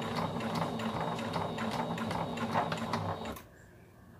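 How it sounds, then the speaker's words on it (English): A sewing machine backstitches a drawstring bag, running in a rapid, steady mechanical whir with fine rhythmic ticking up close, then stopping abruptly near the end and leaving quiet room tone. "we're going to backstitch."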